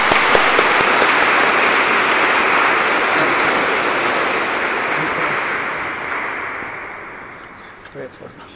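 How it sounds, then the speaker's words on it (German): An audience at a Eucharistic Congress gathering in Zwiesel, Germany, gives a guest a long round of welcoming applause, a dense, loud clapping that holds steady and then slowly fades toward the end. "ich möchte ihn herzlich in unserer Mitte mit einem Rundapplaus begrüßen"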